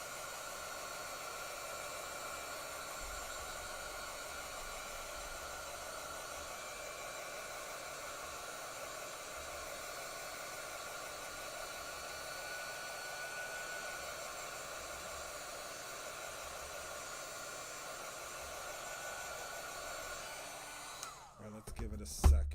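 A heat tool blows hot air steadily onto ink, a continuous even whooshing hiss held at moderate loudness for the whole stretch before cutting off with a few clunks at the end.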